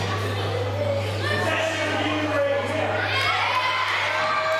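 A wrestling crowd at a heavyweight championship show roars for Nathan Reynolds, a loud sustained wash of cheering and shouting voices, with a steady electrical hum beneath.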